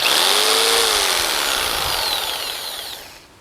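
A modified jigsaw saws through a piece of firewood for an outdoor fireplace, a loud, close, steady buzzing whine that holds for about three seconds, then fades off as the cut finishes.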